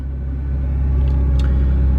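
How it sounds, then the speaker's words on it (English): A 2014 Nissan GT-R Black Edition idles just after starting, a loud, close, steady low rumble with a deep throb and no revving. "Obviously put the foot on the brake and hold down that button. The car is now started."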